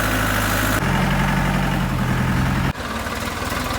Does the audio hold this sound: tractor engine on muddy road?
yes